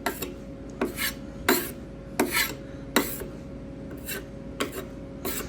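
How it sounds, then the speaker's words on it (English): A putty knife scrapes and spreads wood filler over cabinet wood in a series of short rasping strokes, about nine evenly spaced swipes, close and fairly quiet over a steady background hum. "put some wood filler on it. Now I just take my putty knife."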